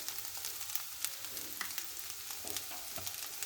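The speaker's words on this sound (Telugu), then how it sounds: "ఇప్పుడు మళ్ళీ గరిటెతో శుభ్రంగా తిప్పాలి." An egg fry with turmeric and chili being stirred with a ladle, a close, steady sizzle of oil with repeated scraping and tapping of the ladle against the pan, and no talking.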